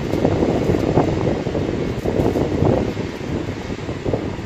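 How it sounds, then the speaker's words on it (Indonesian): Strong outdoor wind buffets the microphone with loud, rumbling gusts that rise and fall continuously for several seconds, with no voices. "Ini anginnya kenceng sekali."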